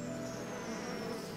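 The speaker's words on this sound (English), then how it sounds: "We need bees to pollinate our crops." Bees buzz in a steady, continuous drone, close and fairly loud, with no voices.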